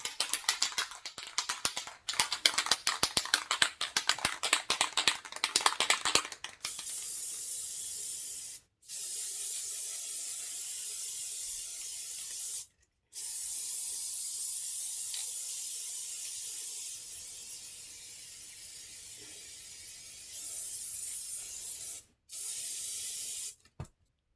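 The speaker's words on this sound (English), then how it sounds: "Respray the other portion. Smooth. Spray one more time." An aerosol can sprays in long continuous hissing bursts with brief pauses between, preceded by rapid clicking rattles as the can is shaken, spray painting a pumpkin with glitter.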